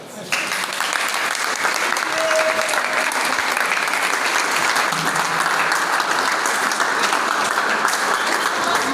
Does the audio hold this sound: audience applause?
yes